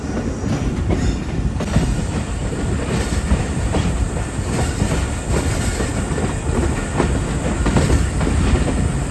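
The Khushal Khan Khattak Express rolls along a mountain track above the Indus, its wheels clattering close and steady in a continuous loud roar, with faint squeals from the rails throughout.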